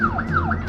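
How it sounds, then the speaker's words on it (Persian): A wailing ambulance siren sweeps up and down in repeated cycles, loud and steady, with no voices over it. "صدای آمبولانسه."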